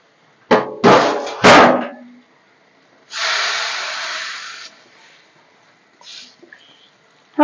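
Sweet pumpkin poured into a hot pan for a curry: a few sharp loud bursts of sizzling, then a sustained hiss that fades, and one last short sizzle.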